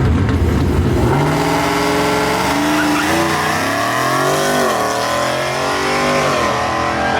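A nitrous-fed Ford Mustang S650 drag car launches down the track with a loud engine roar that climbs through the gears, mixed with tire squeal.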